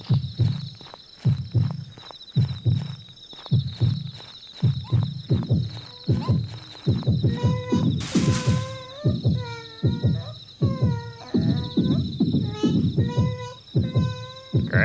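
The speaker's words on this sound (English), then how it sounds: "Alright, so the heartbeat happens." Heartbeat sound effect in the horror video game Yomawari, a steady double-thump pulse repeating through the clip, layered with a high ringing tone and scattered game chimes.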